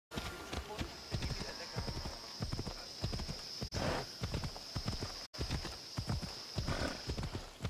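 Rapid, rhythmic video game hoofbeats from Assassin's Creed Odyssey clatter close up over a steady hiss, with a couple of brief dropouts and a hint of a whinny.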